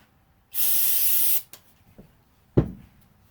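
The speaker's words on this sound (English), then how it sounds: "Let me get some brake cleaner." Brake cleaner hisses from an aerosol can in a short, loud, steady spray of about a second onto a KTM 450SXF motorcycle engine part, followed by a couple of light clinks and a sharp knock nearby.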